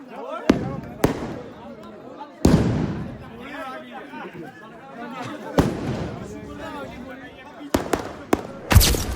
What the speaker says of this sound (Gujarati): અમારા દીપભાઈ ત્રણ ધડાકા હાથમાં ફોડે છે.